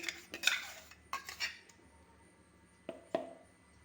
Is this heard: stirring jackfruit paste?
yes